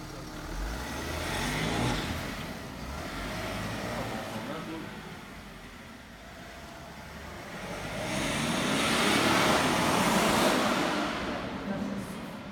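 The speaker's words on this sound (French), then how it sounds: "On entend que le moteur." A BMW X6 M50d diesel engine pulls under full load, a steady roaring drone that swells and fades as the car accelerates, heard from inside the cabin.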